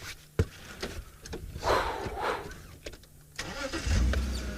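A safari vehicle on a sunset game drive rumbles steadily as it moves through the bush near a fallen tree, with engine noise close by and occasional knocks and clunks from the ride.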